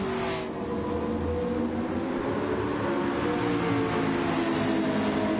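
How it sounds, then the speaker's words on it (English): A Super GT race car engine in Gran Turismo drones steadily at Suzuka, a continuous, fairly loud tone with a slight rising pitch and road noise. "I still don't know why this car sounds like the McLaren 650S"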